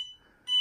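Electronic alarm from an Open Garage door monitor, a piercing high steady beep that cuts out briefly and then sounds again, loud and close with nothing else around it.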